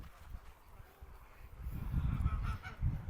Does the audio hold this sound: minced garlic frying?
no